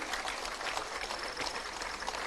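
Audience applause greets appointment letter recipients at a government ceremony, a steady dense patter of many hands that holds at even loudness for a couple of seconds.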